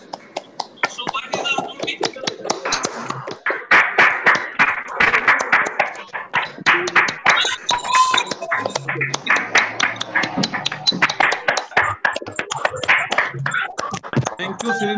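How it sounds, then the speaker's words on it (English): Scattered clapping from many separate online participants at an anniversary celebration, uneven and slightly out of sync, continues with faint voices mixed in. "share a round of applause for this event to us"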